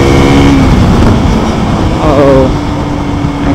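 A 2025 KTM RC 200 motorcycle cruising in sixth gear gives a steady, loud engine drone mixed with rushing wind noise, with a voice talking over it.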